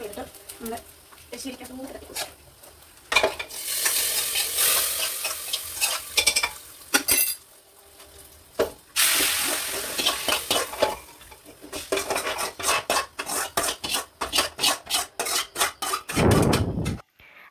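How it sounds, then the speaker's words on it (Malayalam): Grated coconut roasts, crackling and sizzling in a hot pan while a spoon scrapes and stirs in quick repeated strokes; a voice speaks at times. "കുറച്ച് തേങ്ങയും കൂടെ ചെറുകിയ തേങ്ങയും കൂടെ ഇട്ട് നന്നായിട്ടൊന്ന് മൂപ്പിച്ചെടുക്കണം"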